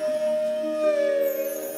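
A dog howls in a single sustained, wavering tone that slowly bends in pitch, close and fairly loud, lasting under two seconds.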